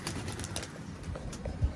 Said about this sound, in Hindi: ये देखें, ये सारे कबूतर हैं।